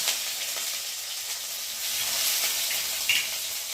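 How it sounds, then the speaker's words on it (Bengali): Ginger paste and chopped tomato sizzle and fry in hot oil with a steady crackling hiss, close and continuous, with a faint stir near the end. "দেখো ভাজা ভাজা হয়ে এসেছে, আর এখন আমি দিয়ে দেবো"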